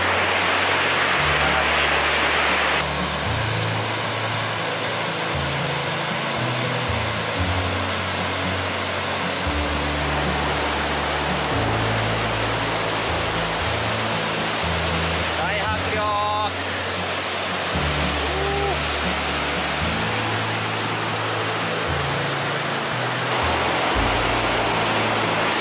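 A roaring river rushes beside the road through New Zealand's Eglinton Valley on the way to Milford Sound, a loud continuous wash of white-noise-like water heard under a voice.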